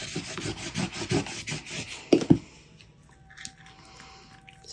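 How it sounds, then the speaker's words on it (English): A crafting scraper rubbed over vinyl on a sign, several quick, close scratchy strokes in a rhythmic series, ending with two sharper scrapes before fading to quiet. "just go over it with our scraper"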